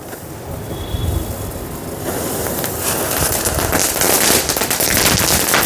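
A firecracker 'gun' being lit and firing: a hissing burn that swells into a dense, continuous rattle of rapid crackling pops, loud and sustained to the end.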